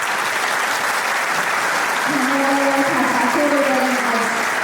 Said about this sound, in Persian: برای احترامشون برمی‌خیزیم و جانانه تشویقشون می‌کنم.